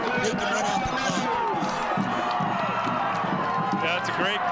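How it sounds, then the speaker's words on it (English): Football crowd of Snowflake Lobos fans on their feet cheering late in a game, a loud continuous roar of many voices with scattered shouts filling the whole stretch. "The fans standing up and cheering"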